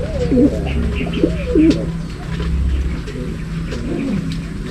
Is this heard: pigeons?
yes